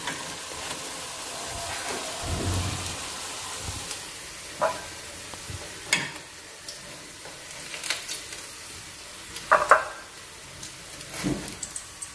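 Bananas fry in oil for crispy pisang goreng with a continuous crackling sizzle, punctuated by occasional scrapes and clinks of a utensil stirring the pan.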